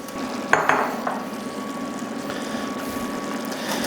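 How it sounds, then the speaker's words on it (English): General Tso's sauce simmering in a pan over high heat gives a steady low hiss and bubbling, with a few sharp utensil clinks near the start; no one speaks. "We're gonna let this simmer."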